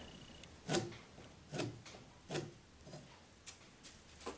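A pencil rubs across a timber frame piece while a tenon line is marked, a few short scratchy strokes spaced under a second apart, close and quiet.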